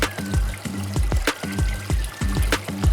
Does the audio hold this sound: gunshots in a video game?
no